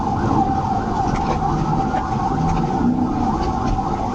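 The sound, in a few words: police car siren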